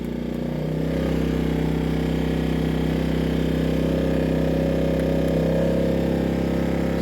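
A Heomaito 1800-watt dual fuel inverter generator runs under resistive load with eco mode off, giving a loud, steady engine drone at high RPM that holds throughout with no talk.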